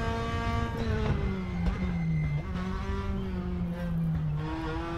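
DTM race cars circle the Assen track in the RaceRoom VR racing video game, engines droning with gliding pitch as they shift and rev, loud and continuous with no talk.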